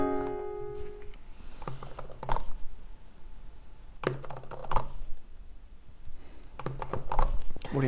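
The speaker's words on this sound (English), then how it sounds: "I'm typing the alphabet as fast as I can." Rapid bursts of computer keyboard typing, fast clattering key clicks in several quick runs separated by short pauses, close and fairly clear, with faint background sound at the start.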